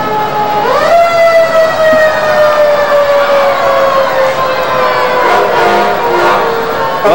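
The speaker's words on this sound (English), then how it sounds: "we got quite a few fire trucks coming through tonight." Fire truck sirens wail through a nighttime Chinese New Year parade in San Francisco, a loud steady siren tone with slowly falling pitch filling the scene over crowd noise.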